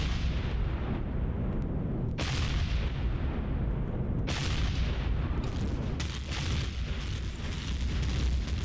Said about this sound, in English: And we're going to get shot at.